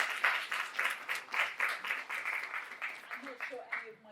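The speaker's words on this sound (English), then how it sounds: "I think that deserves a clap." An audience claps after a talk, a steady patter of applause that runs throughout, with a voice speaking over it near the end.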